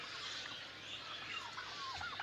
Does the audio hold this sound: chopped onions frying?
no